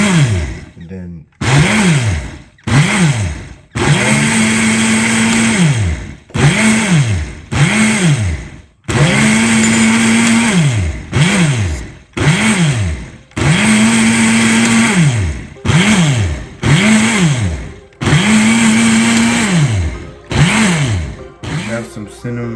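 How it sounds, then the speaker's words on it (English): A blender runs in repeated short pulses blending horchata, each burst whirring up in pitch and cutting off, with several longer runs between quick stops, loud and close. "We're gonna first blend it"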